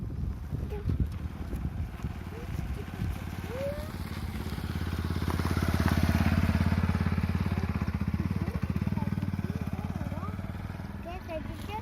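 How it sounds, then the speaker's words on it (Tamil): Motor vehicle, likely a motorcycle, passing close along the roadside, its engine rumble swelling to a peak midway and then fading, with outdoor background noise throughout. "ஓரமா வண்டி வருது"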